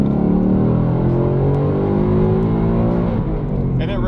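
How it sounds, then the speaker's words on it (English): A 2019-2020 Ford Mustang GT PP2 V8 revs hard after a downshift into second gear, a loud, close engine roar climbing steadily in pitch for several seconds before easing off. "you can just go ahead, downshift in second,"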